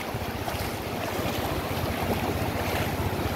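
Sea waves wash steadily onto Enani beach at Cox's Bazar, a continuous surf roar mixed with wind buffeting the microphone, with no voices.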